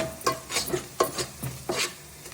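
A spoon stirring fried onions with a pinch of turmeric in a pan for chicken curry, with repeated scraping strokes in an uneven rhythm over a faint sizzle, close up and without speech.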